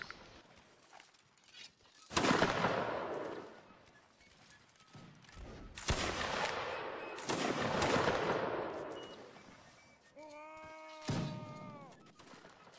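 Musket volleys crack out in a Napoleonic Wars line battle in Mount and Blade, several broad, rolling bursts of massed fire with echoing tails, followed by a brief sustained tonal call near the end.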